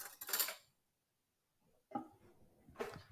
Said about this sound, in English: Let me just grab another spoon.